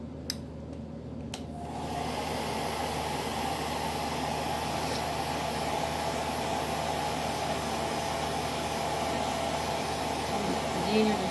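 A hair dryer drying a layer of acrylic paint on a rose painting blows a loud, steady airy roar close by, starting after a couple of brief clicks and continuing unbroken.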